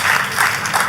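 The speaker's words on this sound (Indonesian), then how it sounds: "kalau mau tepuk tangan, yang paling ujung luar biasa tepuk tangannya" A church congregation claps during a sermon, a brief, dense wash of applause swelling and fading in waves, fairly loud and without clear speech.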